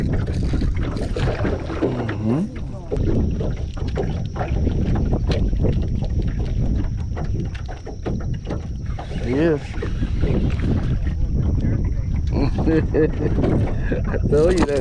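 Wind buffets the microphone on a small fishing boat out on open water, a steady broadband rush and rumble lasting throughout, with a voice talking over it at times.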